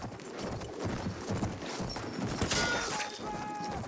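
Horse in the Battlefield 1 open beta, steady clip-clop of hooves running under busy battlefield noise, with a sharp crash or shattering burst midway through.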